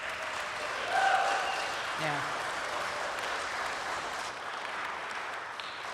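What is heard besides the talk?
audience applause for the two authors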